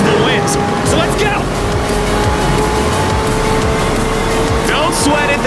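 Race start in Forza Horizon 4: a car engine roars and accelerates hard under a loud, steady wash of other engines, with brief tire squeals cutting through.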